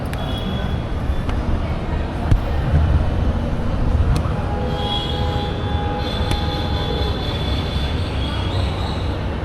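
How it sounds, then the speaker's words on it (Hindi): Train moving through a station in Delhi, with a continuous loud rail rumble, thin metallic wheel squeals, and a few sharp clanks, close by. "And currently I am waiting here for the train."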